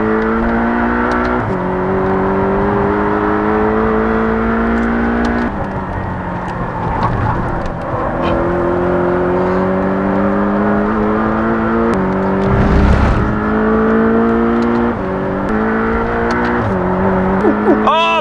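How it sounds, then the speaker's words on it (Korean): A Porsche 718 Boxster GTS engine revs up and drops sharply several times as the driver downshifts manually in traffic, the engine tone climbing and falling repeatedly up close, with someone talking over it. "이 RPM이 상당히 많이 떠있는 상태에서도 기어가 내려갑니다"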